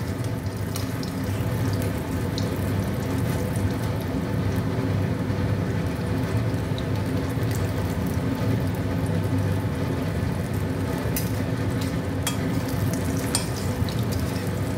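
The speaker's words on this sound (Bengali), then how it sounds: "এবার একটু লাল লাল করে ভেজে নেব" Pea-stuffed kachori browning in hot oil in a kadai, a constant loud bubbling sizzle with occasional crackles, close up and uninterrupted, no speech.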